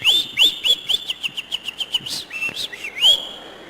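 A person whistles an imitation of a Belgian canary, a loud, close series of rapid rising chirps and trills that repeat in a quick rhythm before ending in a few longer sweeping notes.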